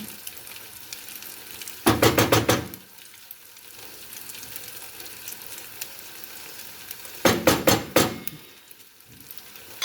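Food frying in oil in a village kitchen, with two loud bursts of crackling sizzle, each lasting under a second with rapid pops, separated by quieter background hiss.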